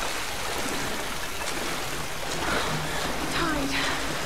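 Rushing, churning water of an incoming tide in the Tomb Raider video game, a continuous loud wash that swells slightly toward the end, with a faint swooping tone and murmured voices beneath.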